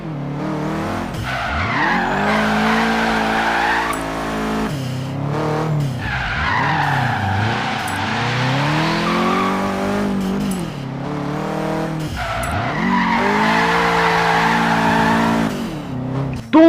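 A Subaru Impreza drifts in Forza Horizon 3, its engine revving and falling while tires squeal and skid through long, repeated slides, loud and continuous.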